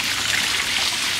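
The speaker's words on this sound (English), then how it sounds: "we got our waterfall going" Water trickles and splashes continuously in a soft, steady hiss, like a small garden waterfall running close by.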